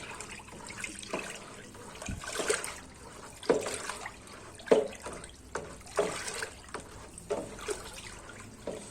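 Blue dye being stirred into a liquid fabric softener mixture in a large batch, soft sloshing and swirling liquid with intermittent splashy swishes and drips, close and fairly quiet, no talking.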